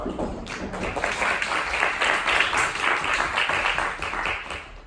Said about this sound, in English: So please, let's all give a round of applause to Professor Theseus.